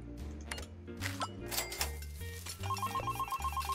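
In the cooking game Delicious Emily's Taste of Fame, a telephone rings with repeated electronic ringtone pulses over upbeat game music.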